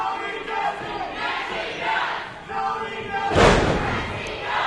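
A wrestling crowd at an indie show cheers and chants in swelling waves, with a sudden loud slam partway through and an excited roar afterward.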